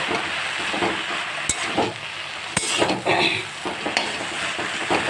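Jute greens frying in a pan to dry out their released water, giving a steady sizzle and hiss with a few sharp utensil scrapes and knocks as they are stirred, close and alone without talk.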